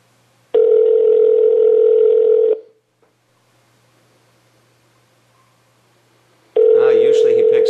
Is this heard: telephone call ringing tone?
yes